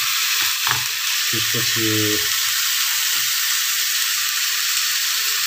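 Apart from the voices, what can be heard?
onion frying in hot oil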